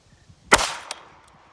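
One sharp .32 Magnum shot from a Ruger LCR revolver at an outdoor range, a loud close crack with a short fading tail and a faint echo just after.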